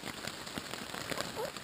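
Steady rain falls at a campsite along the North Country Trail and Manistee River Trail, a soft continuous patter of drops on surfaces with faint crackles, fairly quiet and even throughout.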